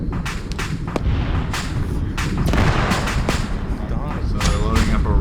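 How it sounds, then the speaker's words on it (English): Russian RPG firing in the video game Arma 3, loud blasts and booms amid repeated gunfire cracks, with talking under the battle noise. "Russian RPG there."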